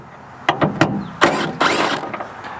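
A ratchet works a bolt loose inside the front door of a 2005-2010 Honda Odyssey during latch removal, a few sharp clicks followed by quick bursts of ratcheting, close and loud with no talk.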